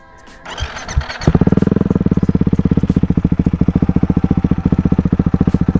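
Ducati Hypermotard fitted with an Austin Racing exhaust, warm-started in neutral on a hot day, catching with a brief crank then settling into a loud, close, lumpy idle with evenly spaced rapid exhaust pulses.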